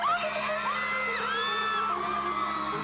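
A concert crowd screams and whoops at a show, with loud, sustained high-pitched shrieks overlapping densely throughout.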